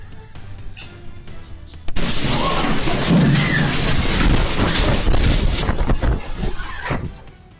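A sudden storm bursts in with a heavy crash as a balcony door blows open, followed by a dense roar of wind and pounding rain that stays loud for several seconds before easing.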